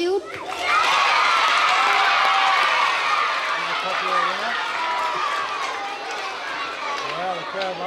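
A school assembly crowd of children cheering and shouting loudly and steadily, the roar gradually easing over several seconds while a voice speaks over it.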